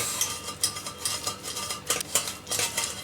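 Cooked red bean paste for strawberry daifuku being pressed through a strainer, a metal utensil scraping and clinking against the mesh and pot in a steady, repeated rhythm, close and fairly quiet.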